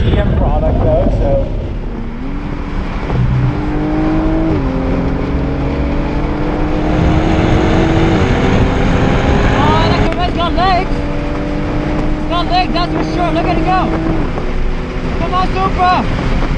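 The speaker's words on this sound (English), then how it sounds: "C8 Corvette versus the Supra" Mid-engine C8 Corvette Z51 and a 2020 Toyota Supra racing on the VIR track: loud, sustained engine drone with rising and shifting tones through gear changes, overlaid with heavy wind buffeting on the microphone.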